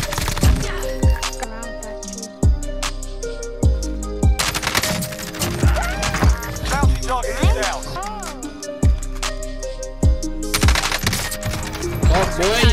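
Rapid, loud bursts of automatic gunfire in Call of Duty Modern Warfare Warzone, with sharp repeated shots in clusters across the whole span and no talk.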